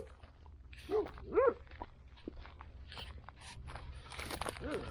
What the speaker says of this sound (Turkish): Çekimleri yaparken zaman zaman böyle denk geliyoruz köpeklere